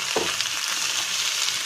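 Cucumber sautés in a hot pan with a steady, close, even sizzle and a faint clink near the start.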